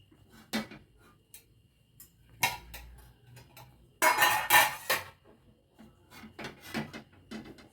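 Metal cooking pot set down on a lit gas stove while preparing vermicelli upma, giving several sharp clanks and clinks, with one louder rattling burst in the middle and lighter taps around it, close by with no talk.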